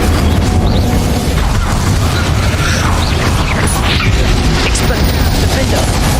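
Fire and blasting spells detonating in a Hogwarts Legacy duel, a dense, loud, continuous rumble of booming bursts with voices shouting incantations over the fight.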